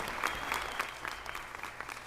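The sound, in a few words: applause for honored women at city council meeting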